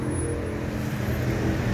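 A motor engine runs continuously in Morocco, a loud, steady low rumble that stays even throughout, close by and with no voices.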